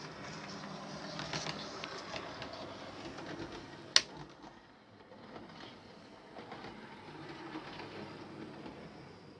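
A model railway's two-car diesel multiple unit runs along the layout with a light rolling rumble and faint clicks, punctuated by one sharp metallic tick, then quieter running.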